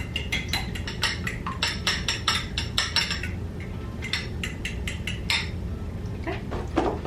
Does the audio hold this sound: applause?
no